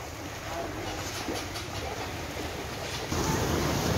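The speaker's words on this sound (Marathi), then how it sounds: "सर्वत्र पाणीच पाणी वाहतंय" Floodwater rushes over a road in a broad, steady roar that grows louder near the end, with faint voices under the flow.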